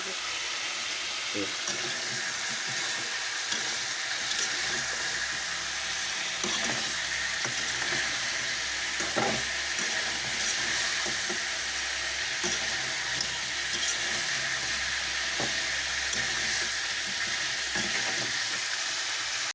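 Meat frying in its own released oil in a pan sizzles continuously, with occasional scraping stirs and soft knocks.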